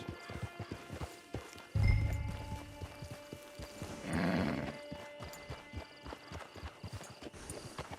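Horse hooves clip-clop steadily in Red Dead Online, broken by a loud whinny near the start and a second neigh midway, with soft game ambience underneath.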